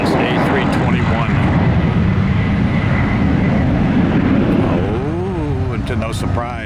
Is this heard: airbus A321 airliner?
yes